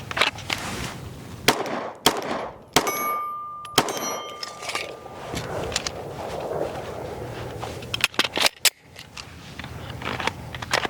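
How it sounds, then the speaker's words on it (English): Shadow Systems DR920 pistol shots ringing off a steel target post at an outdoor range, a series of sharp metallic clangs and pings spaced irregularly, some doubled in quick succession, with a brief sustained ring after one hit. "I'm just hitting below the target, but I'm hitting the post."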